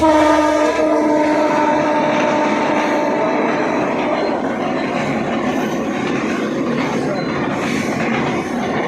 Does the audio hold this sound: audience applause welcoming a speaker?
no